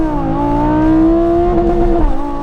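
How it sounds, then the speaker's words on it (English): A Lamborghini Huracan V10 in Corsa mode revs loudly with the brake held, then launches. The rising engine note climbs steadily and stays close and dominant for two and a half seconds, with no voices. "Left foot on the brake, right foot on the accelerator, revving the motor,"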